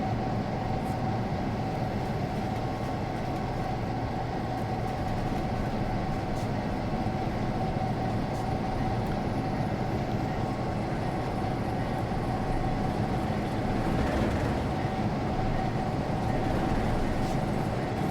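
GR&I locomotives haul a train with a steady, low rumbling roar and rolling rail noise that holds evenly throughout, moderately close, with no voices.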